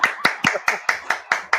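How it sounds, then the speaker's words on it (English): A single person claps for a guest on a casual sports talk show, eight sharp, evenly spaced claps, close and loud. "Give him an applause."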